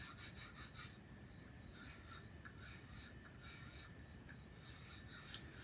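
A straight razor's bevel being set on a black DMT diamond plate, giving a steady, continuous scraping rub of steel on abrasive, fairly quiet and close with slight rhythmic strokes throughout.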